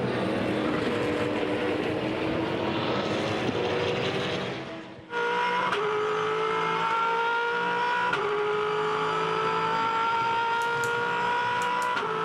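V8 Supercars in the 2011 race at Barbagallo, Perth: loud, sustained engine roar of racing cars with changing pitch as they pass and shift, continuous throughout with a brief dip midway.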